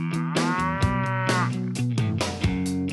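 A cow moos in a long, loud, resonant call that runs for about three seconds with rising and falling pitch, heard alone without any talking.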